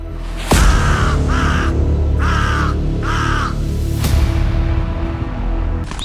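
A crow caws four times in quick succession, loud and close over a steady rushing storm wind, then falls silent as the wind keeps blowing.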